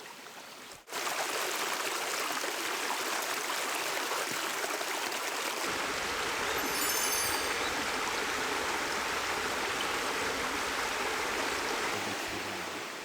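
Steady rushing water from a mountain stream flows continuously, fairly loud and close, with no voices.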